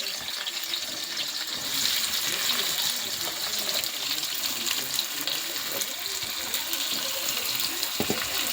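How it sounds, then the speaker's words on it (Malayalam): Sliced onions sizzle in hot oil in a pan while mutton curry is cooked, giving a steady bright hiss with small crackles that runs throughout. "എണ്ണ ചൂടായിട്ട് നമുക്ക് അതിലേക്ക് സവാള ഇടാം"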